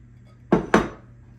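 A whisk twice clinks sharply against a bowl while stirring grated cheddar into an egg mixture for sausage frittatas. The two close strikes are followed by quiet.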